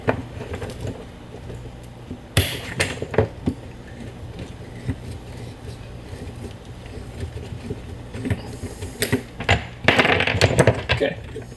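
Water pipe being cut during a kitchen sink swap, with scattered metallic clinks, scrapes and handling noise close by over a low background, plus a denser rattling burst near the end.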